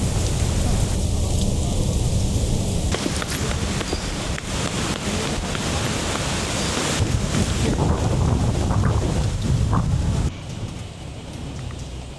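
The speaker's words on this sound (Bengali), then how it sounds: "আজকে এখানে এসে কালবৈশাখী ঝড় এসে পড়লো।" A nor'wester thunderstorm sweeps over a resort in Gazipur, Bangladesh: loud, continuous roaring wind and rain fill the microphone without letup, with gust-driven buffeting and no speech.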